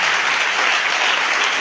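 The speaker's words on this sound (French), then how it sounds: "Acclame pour Jésus" A church congregation applauds and cheers in praise of Jesus, steady dense clapping filling the room without a break, loud and close, with no voices standing out.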